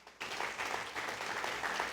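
Church congregation breaking into applause during a sermon, a dense wash of many hands clapping that starts abruptly and holds steady, moderately quiet and with no voices over it.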